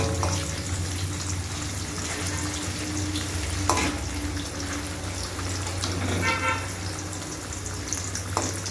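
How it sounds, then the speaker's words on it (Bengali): Paneer pieces fry in hot oil over lowered heat, turned side to side, giving a steady close sizzle and bubbling throughout, with a few brief clinks and stirring scrapes. "এভাবে এপিট ওপিট করে ভালো করে ভেজে তুলে নেব সব পনিরগুলো।"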